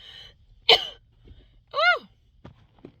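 A single sharp sneeze bursts out, followed by a rising-falling vocal sigh and a couple of small clicks, near and fairly loud against a quiet room.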